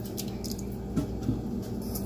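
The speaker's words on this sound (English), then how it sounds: "So you want to rinse until the water is clear" Black-eyed peas are rinsed in water, giving soft squishing and sloshing sounds with a couple of light drips over a steady background wash.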